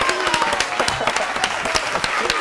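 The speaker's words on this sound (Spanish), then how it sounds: "¡Un aplauso, amigos!" A TV show studio audience bursts into dense, steady applause, many hands clapping at once, loud and close for a couple of seconds.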